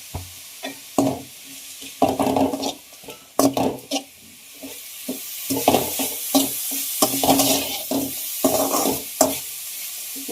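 Bitter gourd thoran with grated coconut stirred in a pan, the spoon scraping and tossing in quick uneven strokes over a faint steady sizzle, close and fairly loud with brief pauses between bursts.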